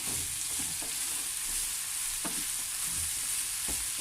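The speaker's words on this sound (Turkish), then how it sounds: "soğanlarla otları özleştirip kavurmaya devam ediyoruz." Onions and herbs sauté in a pan for an Aegean herbed bulgur dish with a loud, unbroken sizzle, while a spoon scrapes through them in a few soft strokes; no talking.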